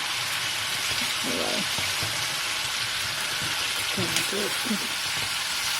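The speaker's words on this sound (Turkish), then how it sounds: "Şöyle bunu da kızartacağım." Continuous crackling sizzle of sliced potatoes frying in hot oil in a pan, steady and close, with a person speaking quietly over it now and then.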